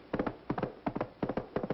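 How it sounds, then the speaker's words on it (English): A horse-hoof sound effect clip-clops in a quick, even rhythm, crisp hollow double taps repeating in groups close to the microphone, with no talking over it. "Now we have the horse's hoof."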